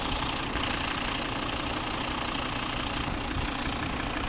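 A 2013 Volvo V60 AWD's 2.4 D4 diesel engine idles steadily with a low, even rumble and faint knocking texture, continuous throughout with no voices.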